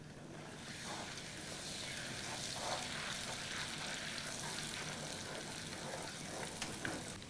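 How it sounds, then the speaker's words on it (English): Sugar and syrup melting together in a saucepan while being stirred, giving a steady soft sizzle and faint scraping that runs evenly throughout with no talk. "Mix them together until the sugar and syrup have completely melted."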